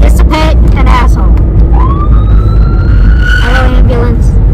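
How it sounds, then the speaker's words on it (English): An ambulance siren sweeps past on a Long Island road, rising and wailing loudly over heavy in-car road rumble, with a voice speaking briefly before and after. "Hello, ambulance. It's an ambulance."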